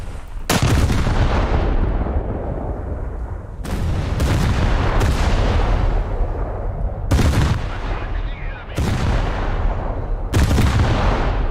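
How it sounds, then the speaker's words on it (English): The battleship Bayern fires on the player in a naval game, heavy booming salvos landing about every one and a half to two seconds, each with a long rumbling decay, loud and close. "Yep, the Bayern is shooting me."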